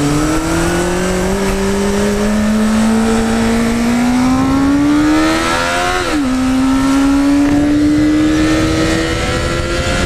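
A motorcycle engine accelerates while being ridden, its steady drone climbing in pitch, dropping briefly at a gear change, then rising again, loud and close with no talking.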